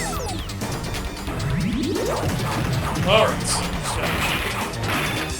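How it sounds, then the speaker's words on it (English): Clanking, crunching hits rain down on a robotic suit in The Simpsons Arcade Game, a dense mechanical barrage of metallic smashes and whooshes with a brief sweeping tone, while someone talks briefly over the game sounds. "We're smashing away at this robotic suit."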